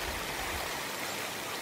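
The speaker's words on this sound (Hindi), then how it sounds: "और इतनी बारिश है और इतनी बड़ी नदी है" A large river at the confluence of the Saryu and Gomti rushes steadily in heavy rain, a dense unbroken roar of water close by with no speech.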